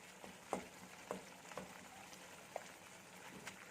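Shrimp dropped into frying spice paste for shrimp malaikari, a faint low sizzle in the pan with a few soft plops and stirring taps at irregular intervals.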